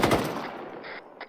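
Machine gun fire on a combat patrol, a rapid burst of close shots that fades quickly into a quiet tail with a couple of faint sharp sounds after.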